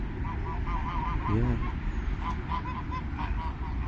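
Geese honk repeatedly in a busy flock, close by, at a lake park in Abu Dhabi, with steady outdoor background noise and a brief spoken word.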